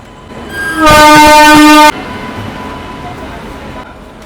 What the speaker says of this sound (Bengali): 13153 এই গৌড় এক্সপ্রেস কিন্তু একদম ডাইরেক্ট মালদা টাউন অবধি কিন্তু যাচ্ছে এই ট্রেনটা